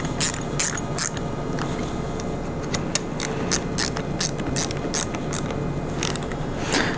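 Ratchet tightening bolts on a 70cc dispense pump during a rebuild, giving repeated bursts of close, crisp clicking strokes over a steady low background.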